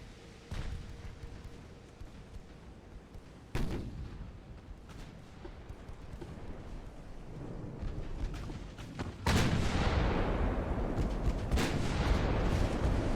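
Warship 9-inch guns booming in Ultimate Admiral: Dreadnoughts, a few heavy distant blasts spaced seconds apart over a low rumbling battle bed, the last one louder and sustained.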